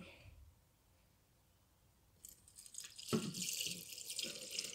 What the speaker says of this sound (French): Je vais compléter avec de l'eau.